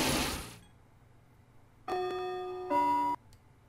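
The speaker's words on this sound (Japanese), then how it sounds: "チャイムも鳴ってるし、ちょうどいい時間だね。" A school chime rings in a visual novel game, two clear bell-like tones sounding one after the other, with a brief swish just before and quiet in between.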